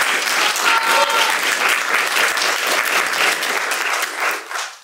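Theatre audience applauding at the curtain call of a student production of Yasmina Reza's play «Art», a dense sustained wash of many hands clapping at close range, loud and steady for nearly five seconds before thinning slightly at the end.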